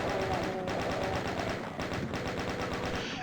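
A chaingunner fires a chaingun in the DOOM video game on the Crash Site map of Forward Toward Uranus X, as one loud, continuous stream of rapid shots that holds steady for the whole stretch.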